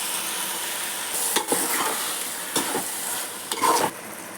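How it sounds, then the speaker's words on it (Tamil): Chicken biryani masala sizzles steadily in a wide pan as yogurt is stirred in, with a constant frying hiss broken by several soft scraping stir strokes and light clinks of the spoon against the pan. "இப்போது தயிர் சேர்த்துக்கலாம்."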